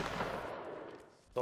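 Musket volley in the Napoleonic Wars game, a dense crackling burst of massed gunfire that rings out and fades over about a second, with a sharp new report at the very end.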